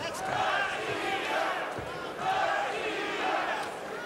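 Boxing fans in an arena roar and chant during a final bout, a full, swelling crowd wave that rises and falls in loud surges.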